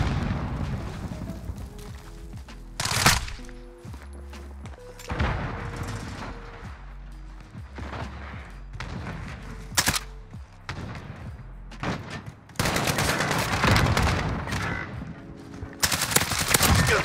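Rapid bursts of video game gunfire crack sharply over a background of music and game sounds, with several loud clusters of shots spaced through the stretch.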